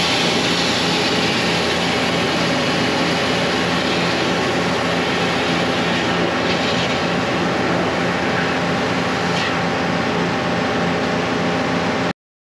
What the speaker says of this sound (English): I might as well jet this line here